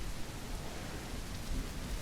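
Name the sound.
thunderstorm with rain in the video game The Isle Evrima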